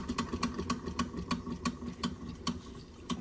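A small Wilesco D6 or Mamod Minor model steam engine builds up steam with a steady, quick ticking chuff, about two beats a second, over a low mechanical hum, close and moderately loud.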